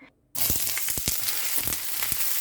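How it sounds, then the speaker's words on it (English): Garlic and onion sautéing in hot oil in a pan: a sudden loud sizzle bursts in after a brief quiet start and holds steady, with scattered stirring clicks and scrapes, no talk. "In a heated pan with cooking oil, let's sauté the garlic and onion"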